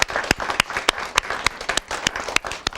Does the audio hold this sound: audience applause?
yes